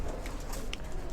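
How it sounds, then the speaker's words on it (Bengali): Stock pigeons in a cage give soft, faint coos against a steady background hiss, with no one speaking. "এই যে স্টক কবুতরের খাঁচা"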